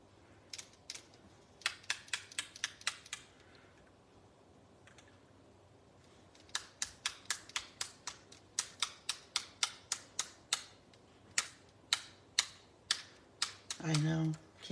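A Wink of Stella glitter pen is tapped against a card in quick bursts of sharp, close clicks. Pauses separate the bursts, and a brief low rattle comes near the end.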